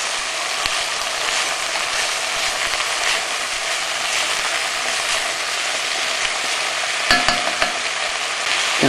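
Chilli con carne with fresh thyme and dried oregano is stirred in a hot pan, a continuous loud sizzle with a few scraping clatters near the end and no voices.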